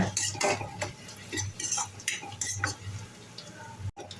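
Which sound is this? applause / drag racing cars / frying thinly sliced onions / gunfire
frying thinly sliced onions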